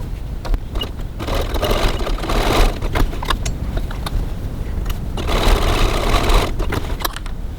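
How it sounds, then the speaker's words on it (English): A sewing machine stitches across the ends of cross-body bag straps with a 1 cm seam at stitch length 2.4, running in close, loud bursts of rapid whirring with short pauses between runs. "Now we're going to go over to the sewing machine and stitch both ends."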